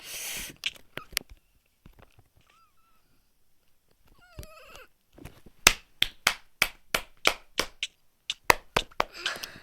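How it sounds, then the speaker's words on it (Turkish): Hands clap close and loud in a quick, steady run of about a dozen sharp claps, preceded by a few scattered claps and a short tonal squeak. "Alkış, alkış."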